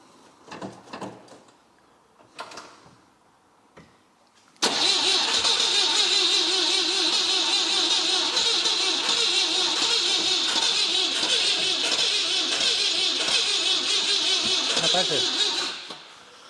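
A rare classic car pulled from a garage cranks on ignition with its batteries on: a loud, sustained churning whir for about eleven seconds that never catches, after a few seconds of talk.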